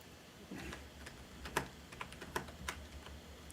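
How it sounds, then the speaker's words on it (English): Typing on a computer keyboard during a Yu-Gi-Oh! stream, a run of separate clicking keystrokes at an uneven pace, close and fairly quiet over a low steady hum. "I'm typing it, man."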